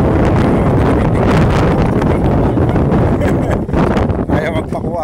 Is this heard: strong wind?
yes